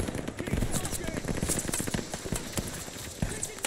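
Rapid machine gun fire from a tower MG position in the Call of Duty Vanguard campaign, Operation Tonga: a quick rattling stream of shots, moderately close, mixed with battle noise and shouted voices.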